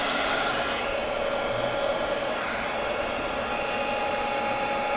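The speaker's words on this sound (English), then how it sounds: "I'm going to get my heat tool" An embossing heat gun blows hot air onto marker watercolor in a steady, loud, broadband whoosh that holds continuously with no voices.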